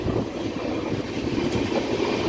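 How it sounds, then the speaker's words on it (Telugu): An express train runs on rails past Hatkesar, heard from inside as a steady, loud rumble of wheels on track that fills the whole stretch, with no talk. "మన ట్రైన్ అయితే హట్కేసర్ క్రాస్ అయ్యి వెళ్తుంది"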